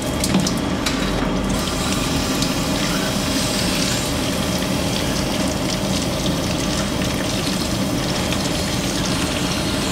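Water from a Vevor battery-powered pressure washer runs steadily into a bottle, a continuous close gushing and splashing that fills the whole stretch with no voices.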